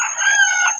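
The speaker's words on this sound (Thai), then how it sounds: "ไก่น้อยไก่เล็กเสียงดี" A small bantam rooster gives one short, shrill crow, close and loud, lasting under a second.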